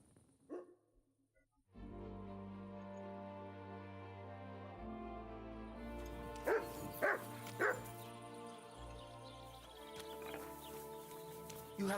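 A dog in Kingdom Come: Deliverance 2 gives a few short barks over sustained in-game music and ambience, heard fairly clearly amid the soundtrack.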